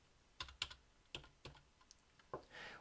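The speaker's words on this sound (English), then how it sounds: "We can use the keyboard as a kind of front panel to toggle in hex data," Keys clack on a computer keyboard as hex data is toggled into a minimal homebuilt 8-bit CPU, a handful of separate sharp presses spread irregularly, close and clear, with no talking.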